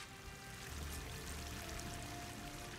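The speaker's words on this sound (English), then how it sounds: "The waterfall must be coming from somewhere." Steady rushing water from a waterfall in the video game Horizon Forbidden West, a soft, even pouring wash heard alone at low volume.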